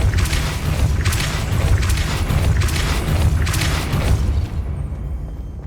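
Depulso spell being cast in Hogwarts Legacy, a series of loud booming bursts at a steady rhythm with no talking, fading to quiet at the end.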